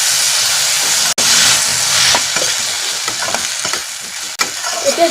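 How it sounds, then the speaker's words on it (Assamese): Chopped tomatoes fry in a hot pan with a loud, close sizzle and hiss, broken by stirring scrapes and a couple of abrupt cuts, with no talking. "এতিয়া বিলাহীখিনি গলালৈকে অকণমান মই এইখিনি ভাজি ল'ম ভালদৰে।"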